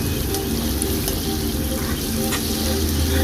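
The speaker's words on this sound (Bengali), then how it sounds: "টমেটো দিয়ে অনেকক্ষণ একটু ভাজতে থাকবো কড়ার মধ্যে" Tomatoes and chili paste fry in a kadai, producing a loud, continuous sizzle with a low bubbling rumble and occasional sharp pops, close up with no voices.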